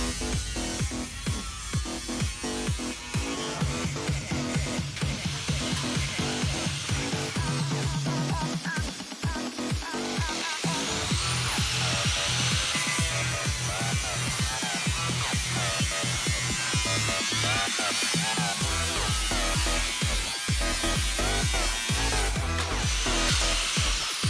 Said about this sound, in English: I've grabbed the angle grinder and using a 1mm cutting disc, I'm taking each end of the repair panel off.